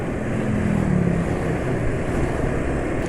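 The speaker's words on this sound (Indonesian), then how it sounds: "Ini suara mesin sudah kasar sekali ini" A loud, rough motorcycle engine drones steadily close to the microphone, a harsh continuous rumble with gritty mechanical noise and no speech.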